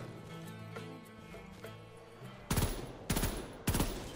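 Machine gun fire in Black Ops 3 Zombies on the custom map Crusader Stronghold: three loud, close bursts in quick succession that break in after a stretch of quieter in-game music.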